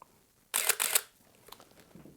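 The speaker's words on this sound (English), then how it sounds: "it makes such a wonderful shutter sound" Shutter release of a Canon EOS 1N film camera: a single close, crisp mechanical snap with a short motor-driven film advance whir, then faint handling noise in quiet surroundings.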